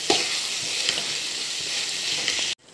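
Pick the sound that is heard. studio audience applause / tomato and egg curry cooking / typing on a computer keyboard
tomato and egg curry cooking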